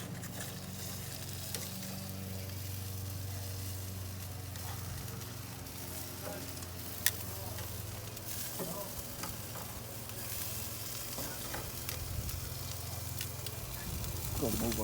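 Ribs sizzle steadily on a Char-Griller Smokin' Champ grill, with a continuous close frying hiss and occasional clicks and clanks of tools throughout.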